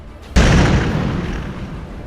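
World War I German U-boat torpedo exploding on a beach, a single sudden heavy boom with a long rumbling roar trailing off, loud and alone.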